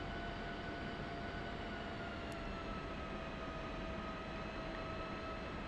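A General Electric-engined F-16C Viper idles slightly above idle thrust while taxiing in the DCS flight simulator, giving a steady, broadband jet roar with faint whining tones and no pauses.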